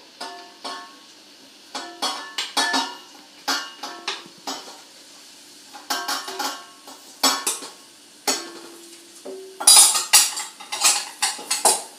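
Melted chocolate being stirred into eggs in a bowl for chocolate mousse, with repeated scraping and clinking of a utensil against the bowl in short, irregular bursts.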